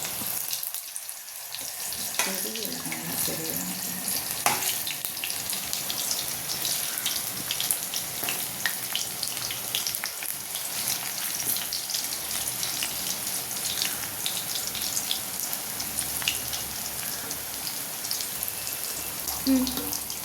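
Cauliflower manchurian pieces frying in hot oil give a steady, even sizzle and crackle from start to finish, close and continuous, with a few faint clinks of utensils.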